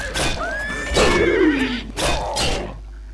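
A horse in the video game Oblivion whinnies loudly twice, each neigh a rising then falling cry with a breathy snort, close and clear with no talk over it.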